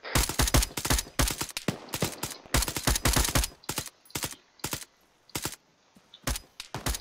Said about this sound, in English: We're shooting in 3, 2, 1. Open fire.